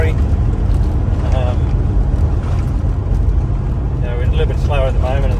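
A vehicle rolls slowly along a rocky outback track between Ayres Rock and Old Gunbarrel, giving a constant broad engine and road roar inside the cab, with someone talking over it in short bursts.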